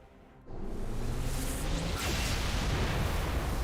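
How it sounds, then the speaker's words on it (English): A Covenant Phantom dropship blows up in Halo Reach: after a near-silent moment a loud, rumbling blast hits, then a rolling, crackling roar of debris and fire that keeps building rather than fading. "That's the whole Phantom explosion."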